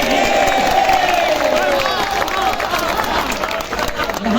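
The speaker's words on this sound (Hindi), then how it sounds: "तालियां कमजोर है आपकी, एक बार ताली बजाइए" Applause from an audience at a kavi sammelan poetry recital in Anupshahr, a steady dense clatter of clapping lasting throughout, with crowd noise and a voice over it.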